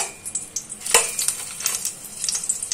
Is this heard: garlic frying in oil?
yes